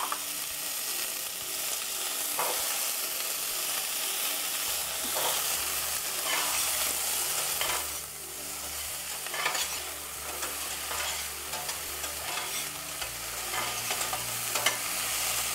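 Onion and potatoes sauté in a pan with a continuous sizzle, broken by repeated scraping stir strokes and occasional clinks of the utensil, with no one speaking.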